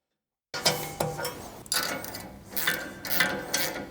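Bolts being tightened on a bumper light mount of a Ford Bronco with a Lobo Off-Road HNT front bumper, a close series of ratcheting clicks and metal taps in short bursts, with no talking.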